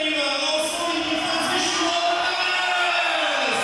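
A basketball crowd at a EuroBasket Women 2017 group-stage game between Greece and Slovenia cheers to greet the Slovenian team, a loud, steady roar of many voices that carries on without a break.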